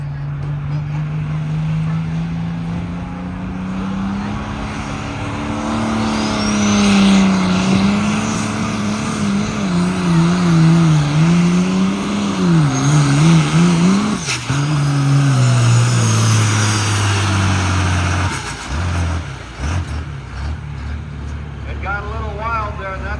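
Red Grinder, a light limited super stock tractor at a tractor pull, roars loud and close with its engine rising and wavering in pitch as it pulls, then cuts off near the end.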